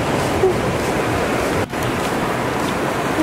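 Ocean waves at a beach make a steady, broad rush of surf, mixed with wind buffeting the microphone, loud and continuous with no talk.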